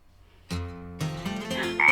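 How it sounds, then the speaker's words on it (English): A frog croaks in a farm pond, two or three close, loud, resonant croaks in quick succession with no talking. "Do you hear that? What's that sound? It's a frog."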